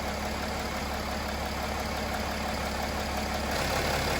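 A Mercedes ML350 W164 engine idles steadily with the coolant system being bled, a continuous even hum with no talk over it.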